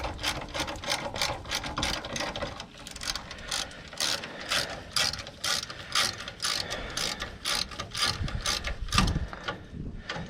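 A hand ratchet loosens a 14 mm nut on the air tank of a 2007 Freightliner Columbia truck, making rapid repeated metallic clicking in steady bursts, close and loud with no talking.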